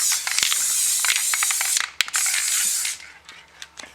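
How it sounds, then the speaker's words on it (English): An aerosol spray can sprays clear coat onto an arcade marquee during a Dig Dug restoration, hissing in long steady bursts with brief pauses and faint clicks, close and alone. "Spray the marquee here."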